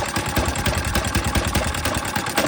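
A Harbor Freight Predator generator engine, freshly rebuilt with a new piston and connecting rod, runs steadily close by, a loud rapid chugging idle with an even pulsing rhythm and no voices.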